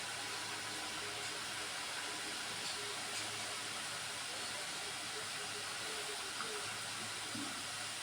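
Aloo bhujia frying in oil over a low gas flame, a steady, even hiss of bubbling that holds for the whole stretch without pause.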